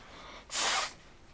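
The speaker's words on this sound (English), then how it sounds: "blow your nose" One short, sharp nasal blast of air, like a quick nose blow, loud against a quiet background.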